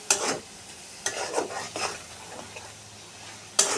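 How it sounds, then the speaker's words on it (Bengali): Dried fish frying in a pan with chili, stirred with a utensil: several scraping strokes over a soft, steady sizzle, close and clear, no voices. "খুব সুন্দর করে শুটকিটাকে এখন আমি নেড়ে নিব"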